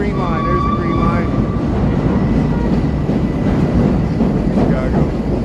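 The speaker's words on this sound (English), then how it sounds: "Here comes the elevated trains here. Here, let's get the train going by here. There's the green line." A Chicago elevated Green Line train rumbles past at noon above a busy street, a loud steady roar with high metallic squeals from the wheels, mixed with city traffic and some voices.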